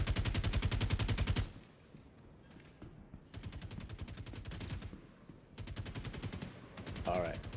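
Automatic machine gun fire in a Star Citizen ground battle arrives in three rapid, loud bursts of rattling shots, each lasting one to two seconds, with short lulls of quieter background noise between them.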